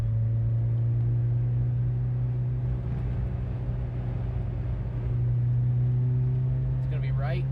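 A 1987 Toyota Corolla FX16 with a 4A-GE engine drones steadily from inside the cabin, its exhaust note holding a strong low hum that dips and swells over the few seconds, with a brief rattle near the end.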